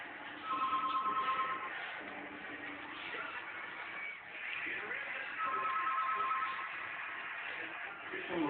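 A telephone rings in repeated bursts under ongoing background chatter and room noise, the ring tone fairly clear but not loud.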